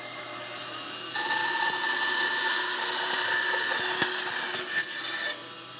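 A bandsaw runs steadily and cuts through wood for a stick chair, a sustained whine with a faint tone that holds for several seconds before easing off near the end, no talking.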